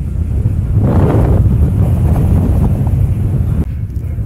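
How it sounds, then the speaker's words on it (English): Loud, continuous wind buffeting the microphone of an Insta360 ONE R camera, a rough low roar with gusty swells and no voices. "hear what the wind sounds like just blowing straight onto the camera"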